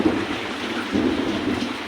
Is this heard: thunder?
yes